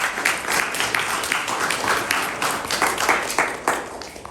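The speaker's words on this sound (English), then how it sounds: "first let's give a very good round of applause to We Shine" An audience at a startup pitch event gives a round of applause, a dense patter of clapping hands that carries steadily for several seconds.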